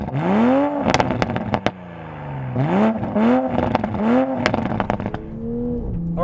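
A 2020 Toyota Supra's engine revs hard on a racetrack at Summit Point, rising and falling through repeated gear changes with sharp exhaust crackles and pops between them, loud and close.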